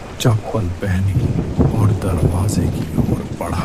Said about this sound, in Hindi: बाहर बारिश की तेज आवाज घर के अंदर तक गूंज रही थी।